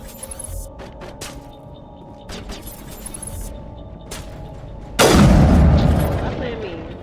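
Gunfire from the video game Mass Effect Legendary Edition, a sudden loud burst erupting near the end after scattered faint pops and clicks, then trailing off gradually.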